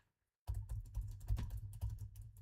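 Rapid typing on a computer keyboard, close and fairly loud, with dense irregular key clatter starting after a brief silence and continuing steadily throughout.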